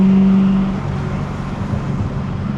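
A V8-swapped BMW E30 with an S38 clutch and lighter flywheel revs at high RPM, heard loud from inside as a held, droning engine note that drops away after half a second into a rougher, lower rumble.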